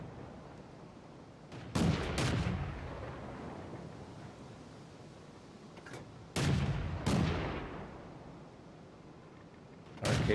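Tank cannon shots in World of Tanks ring out in a loud, booming volley, with a couple of close blasts about every few seconds and a rumbling tail after each, against low battle ambience.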